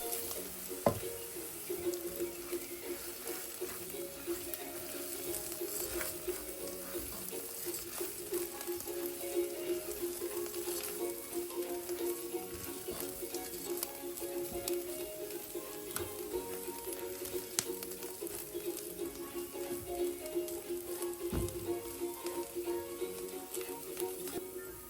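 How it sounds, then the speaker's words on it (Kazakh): Bulgur frying in a pan with other ingredients, giving a steady, faint sizzle and crackle that runs unbroken, with occasional light knocks. "5 минуттай қуырып аламыз"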